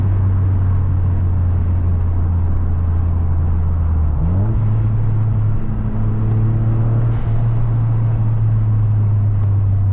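A 2023-2024 Toyota GR Corolla on Eibach springs hums steadily at close range, rising in pitch briefly as it accelerates, then settling into a constant drone with road rumble.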